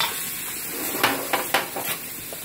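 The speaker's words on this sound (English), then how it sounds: "We're going to let that saute." Puttanesca sauce of tomatoes, olives and capers sautéing in a pan, a soft steady sizzle broken by a few sharp utensil scrapes and clinks, with no talk.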